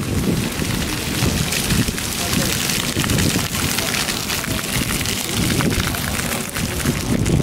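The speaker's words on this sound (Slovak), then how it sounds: "Špliecha na foťák" Sea water in Malta splashes onto a camera, giving a loud, continuous rushing and buffeting wash with wind-like rumble and spattering drops close to the microphone, along with muffled voices.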